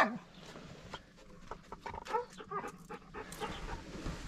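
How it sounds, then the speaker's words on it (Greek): Several dogs bark in short irregular bursts at moderate distance, with whimpering and panting mixed in between the barks, at a riverside fishing spot in Sidironero, Greece. "Θα μας φάνε τα σκυλιά, ακόμα δεν ήρθα."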